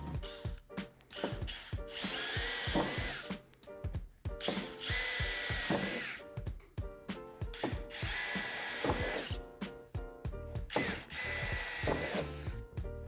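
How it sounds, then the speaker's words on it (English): A power drill with the supplied bit bores through the first metal layer at the top and bottom of a plastic Lifetime 15x8 vertical cladding shed door, whirring in several sustained bursts with clicking and rattling between them, close and loud. "drill them out with the provided drill bit, only going through the first layer of metal"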